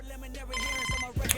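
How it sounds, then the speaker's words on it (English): A phone rings in the MLB 25 baseball video game, a short electronic ringtone burst with layered tones that starts at moderate volume, then steps up louder near the end. No one speaks over it. "All right, our phone is ringing."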